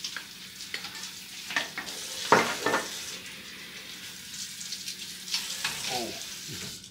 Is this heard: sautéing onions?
yes